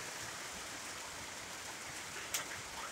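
Light rain begins falling on an afternoon in Kampung Batang Mitus, Tutong, heard as a soft, constant wash of hiss with one brief brighter patter near the end.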